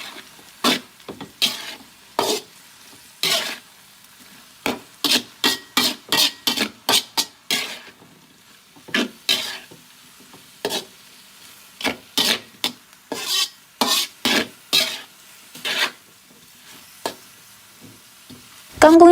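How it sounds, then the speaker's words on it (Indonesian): Water spinach (kangkung) being stir-fried in a pan: a long run of rhythmic scraping strokes from a spatula, in quick clusters with brief pauses, over a faint sizzle. "sekarang kita oseng aja sampai kangkungnya matang"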